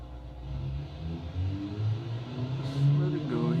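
A turbocharged 1971 Ford Mustang race car engine, simulated in the Automation game, runs on a dyno with a low, steady drone that rises slightly near the end, while someone talks over it.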